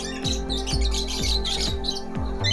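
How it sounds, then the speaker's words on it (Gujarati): Caged birds at a zoo chirp and squawk in quick bursts, close and fairly loud, with no voices. "લવબર્ડ્સ આવ્યા દોસ્તો"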